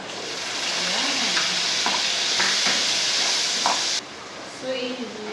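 Garlic, onion and tomato sauté in a hot pan for monggo, giving a loud, steady sizzle with scraping stirs, then a sudden drop to a softer sizzle as a person speaks.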